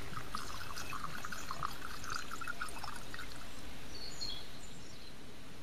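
Glacial acetic acid is poured into a lab flask in one steady, close, rushing stream that thins out and softens near the end, with no talking.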